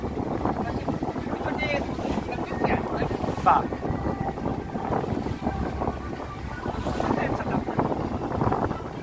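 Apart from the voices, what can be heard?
motorboat passing on a windy lake, making waves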